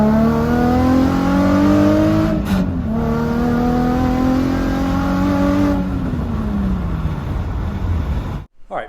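A Nissan 350Z V6 fitted with a Kinetix Velocity intake manifold revs hard and close, its rising engine tone climbing, dipping briefly and holding high before falling away and cutting off near the end.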